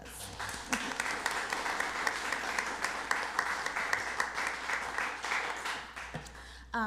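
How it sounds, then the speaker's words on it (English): A meeting audience gives a sustained round of applause, dense steady clapping that carries on for several seconds before tapering at the end. "So I just want to give them another round of applause."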